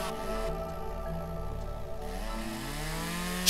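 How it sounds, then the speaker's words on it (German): A chainsaw in the video game Lumberjack's Dynasty cuts through a branch with a steady, close droning whine that runs unbroken throughout, without speech. "Zwei kurze Sägen. Zweimal kurz sägen."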